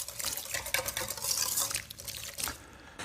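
Instant dry yeast being stirred into a purple blueberry and tofu bagel batter in a bowl, a steady scraping and clinking of the utensil against the bowl, close and moderately loud, with no voices.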